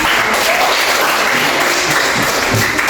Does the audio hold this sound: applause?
yes